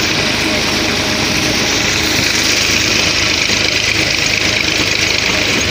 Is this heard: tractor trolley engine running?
yes